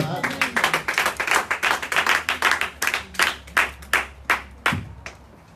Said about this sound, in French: Nous pouvons nous mettre respectueusement et nous acclamons le Seigneur Jésus-Christ.